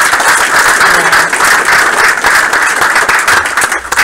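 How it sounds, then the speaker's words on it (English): A group audience at a meeting breaks into loud, sustained applause, dense overlapping clapping held close and steady for several seconds before tapering slightly at the end. "give yourselves a round of applause"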